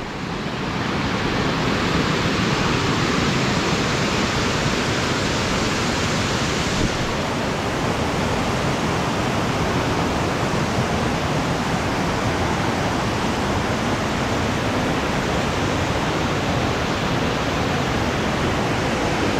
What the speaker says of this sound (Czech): Největší vápencový vodopad na Slovensku.